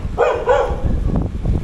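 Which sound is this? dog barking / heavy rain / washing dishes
dog barking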